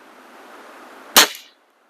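A single crisp shot from a Weihrauch HW30 .22 caliber air rifle on a bench test, a sharp close snap with a short decay after a quiet lead-in.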